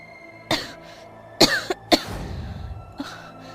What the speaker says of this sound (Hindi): सुबह से देख रही हूँ खांसी पर खांसी आ रही है